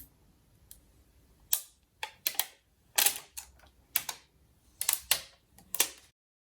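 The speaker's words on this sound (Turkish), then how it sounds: "Şöyle jelatinini sökelim." Protective plastic film is peeled off a WeChip W1 smart TV remote with a built-in keyboard, giving a close series of crisp crackling bursts with short pauses between them and no talking.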